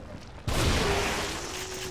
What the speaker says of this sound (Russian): Два выстрела с дробаша.